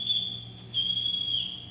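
A sea captain blows a household summons on a whistle, a steady, shrill, high tone held for over a second with a brief break in the middle, loud and alone.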